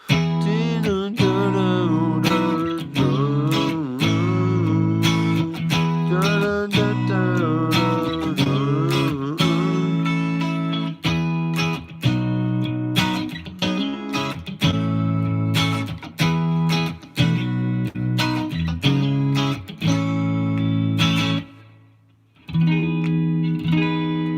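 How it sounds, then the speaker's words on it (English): An electric guitar through a Headrush amp rig plays choppy chords and riffs drenched in springy reverb, loud and continuous, with a brief drop to near silence before resuming. "So I just got some spring reverb on there"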